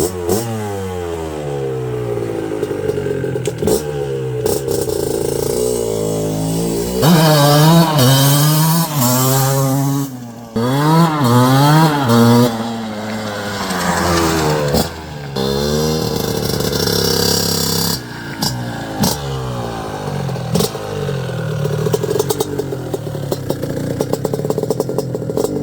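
A 1981 Suzuki RM125 motocross motorcycle engine runs close and loud, rising and falling in a series of sharp revving swells with brief idling dips between them.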